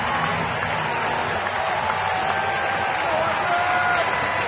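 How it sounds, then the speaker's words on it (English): A baseball stadium crowd applauds and cheers steadily throughout, a dense wash of clapping and voices at constant loudness during a San Diego at San Francisco game, with a faint voice underneath. "Crowd's getting into it, Chris."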